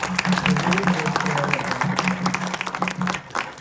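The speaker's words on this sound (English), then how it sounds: "I would like you guys to give a big round of applause for him." An audience applauds at a press conference for the film Bade Miyan Chote Miyan, with steady, dense clapping that continues for several seconds and a voice or tone faintly audible underneath.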